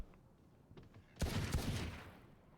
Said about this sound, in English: Mostly just going to be a lot of gunshots thrown back and forth